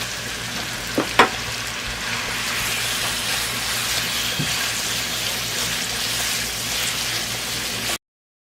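Chicken pieces sizzle steadily in a hot pan with ginger garlic paste for a tawa biryani, a dense, even frying hiss with a couple of brief clinks near the start.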